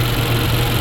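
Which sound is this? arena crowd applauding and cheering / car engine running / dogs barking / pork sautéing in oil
car engine running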